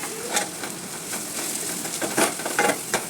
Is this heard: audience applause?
no